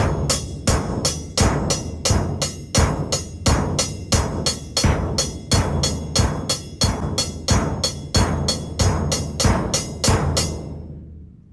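A drum kit plays a steady groove with bass drum and closed hi-hat, a quick even run of crisp strokes over low thumps, close and loud for about eleven seconds before ringing out.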